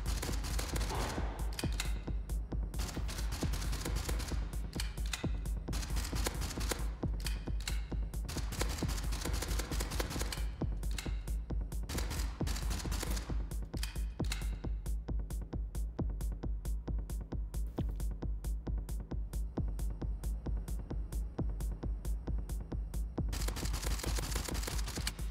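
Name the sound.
gunfire from the video game Gunpunk, hand cannon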